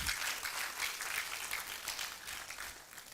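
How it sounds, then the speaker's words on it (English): Applause from a small audience gathered at a university registry meeting, a steady, fairly faint patter of many hands that continues without talk. "Another round of applause for him,"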